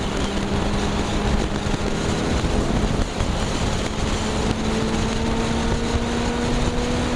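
Kawasaki Z900 motorcycle cruising in sixth gear around 5,000 RPM, a steady engine drone with slowly rising pitch, heavily mixed with constant wind rush from riding.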